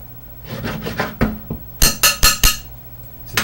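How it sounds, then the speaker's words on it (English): A spoon clinks and taps against a bowl while dry drop-biscuit ingredients are stirred, with soft scraping at first and then a run of four sharp, evenly spaced knocks close by; no one speaks. "we're just going to stir this around to get this mixed."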